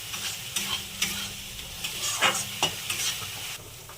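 Ginger-garlic paste is stirred in a sizzling pan for a prawn malai curry. Repeated scraping strokes of the spoon cut through a steady frying hiss at close range.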